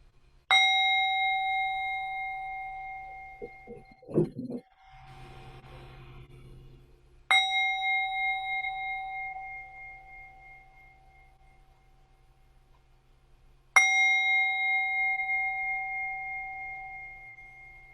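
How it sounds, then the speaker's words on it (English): Three strikes of a clear, resonant bell open a worship service at a spiritual center, each ringing out and slowly decaying, spaced several seconds apart, with a soft rustle between the first two. "Let's ring our bells and begin this beautiful service"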